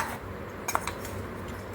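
Metal spoon clinking briefly against a container while scooping roasted spice powder of cinnamon, cardamom, coriander and cloves for chicken pickle, a couple of faint taps near the middle of a quiet kitchen moment.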